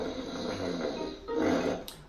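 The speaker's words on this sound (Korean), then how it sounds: "And now he's snoring." Peppa Pig's cartoon pig snores in two slow, drawn-out breaths. The snores are moderately loud over a soft background.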